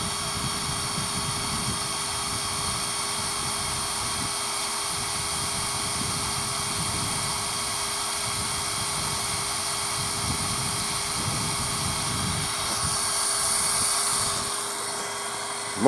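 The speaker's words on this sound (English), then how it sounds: "I'm pumping the water out of this main line for the irrigation system." A loud, continuous mechanical drone with a steady whine from a pump draining an irrigation main line nearby, unchanging throughout.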